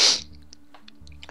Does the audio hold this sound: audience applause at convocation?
no